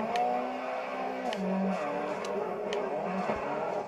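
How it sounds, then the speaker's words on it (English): A racing car's engine drives steady in a drifting video game on Kami Road, tonal engine drone shifting pitch with faint repeated high whooshes and chirps of the turbo. "You hear that turbo?"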